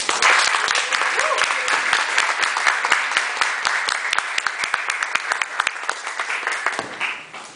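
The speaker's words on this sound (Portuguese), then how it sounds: "Aplausos." Applause from an audience at a conservatory performance, many hands clapping in a brisk, loud wash that gradually thins out, with a few voices heard under it.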